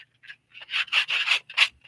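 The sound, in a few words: sanding a soft material by hand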